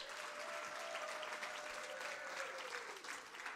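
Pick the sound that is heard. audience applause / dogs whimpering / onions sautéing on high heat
audience applause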